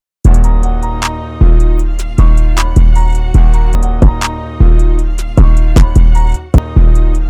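A loud, booming 808 bass line with punchy, short sub-bass notes in a driving pattern, accompanied by snappy percussion hits and high hat ticks.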